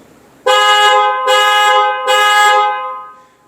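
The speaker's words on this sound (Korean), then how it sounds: "이렇게 경보가 울리게 되어 있고요" Panic alarm on a 2025–2026 Lexus ES300h, set off by holding the smart key button: three loud, sustained horn blasts in a steady on-off rhythm, close and clear with no talking.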